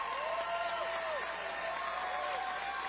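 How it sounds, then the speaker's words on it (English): An audience breaks into sustained applause, a dense, steady roar of clapping and crowd noise that holds at even loudness throughout, with a faint tonal whine drifting over it. "the applause goes nuts"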